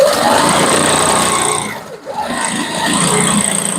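A sewing machine runs steadily, stitching the spine of a quilted feather on a wedding ring quilt, a loud, close, continuous mechanical whir that dips briefly midway before resuming.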